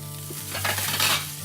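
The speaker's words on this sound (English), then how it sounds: "Just gonna get some oil in there, and then the capers." Capers sizzling and frying in hot oil in a frying pan, a steady loud crackle with a faint tonal hum underneath and no speech.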